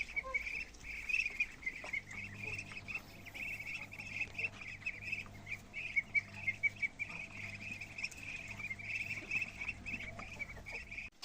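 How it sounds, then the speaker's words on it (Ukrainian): Muscovy ducks quack and chatter softly in a continuous flock, with scattered squeaky calls over a quiet outdoor background. "Індокачки чудова птиця"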